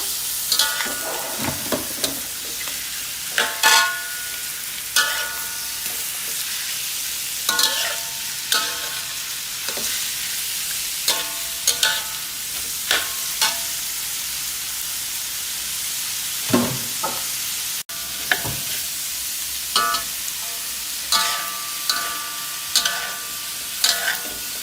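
Eel meat stir-fried with holy basil in a hot pan sizzles continuously, punctuated by repeated sharp scrapes and knocks of a spatula at an uneven rhythm.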